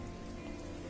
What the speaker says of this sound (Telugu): ఇంత వర్షంలో వెళ్ళడం అవసరమా?